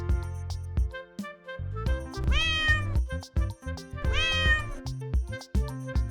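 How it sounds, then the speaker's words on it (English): A cat gives two clear, drawn-out meows over a bouncy children's music backing, the calls standing out loud and close against the steady beat. "C is for cat."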